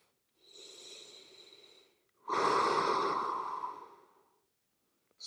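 Slow breathing during a shoulder sleeper stretch: one soft inhale, then a longer and louder exhale, close and alone.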